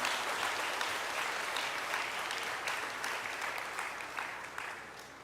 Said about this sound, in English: Let's give our regional brothers and sisters a big round of applause,